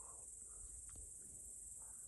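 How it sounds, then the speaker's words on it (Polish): Crickets chirp at night in the Świętokrzyskie Mountains, a faint, steady high-pitched trill running without pause under quiet low background rumble. "Świerszcze grają."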